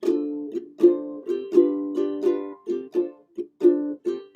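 A lone ukulele strums the chords of a tune, a series of bright, rhythmic chord hits with short gaps between them, played close and clear with no voices.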